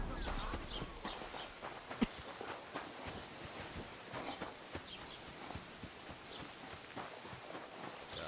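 Horse hooves clip-clop at a steady walking pace in the video game Kingdom Come Deliverance 2, with soft repeated thuds over a continuous outdoor ambience, moderately quiet.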